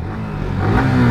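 A Pulsar NS200 and a Yamaha R15 launching side by side in a drag race, engines building steadily in a loud, close, rising rev over about a second with no talk.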